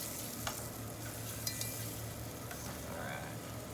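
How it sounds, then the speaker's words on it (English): Beef short ribs stood on their ends sizzle as they sear in a hot pan, a steady close frying hiss with a few faint clinks and scrapes of stirring or utensils. "get all the ends nice and sizzling here."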